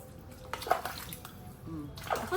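Water is poured and splashes over a dog during a bath, with irregular faint splashes and drips close by and quiet ambient noise in between.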